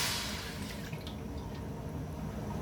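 One cup of water is poured into a cooking pot on a stove while potato and semolina finger chips are being made, giving a steady, continuous splashing wash that stays loud and even throughout.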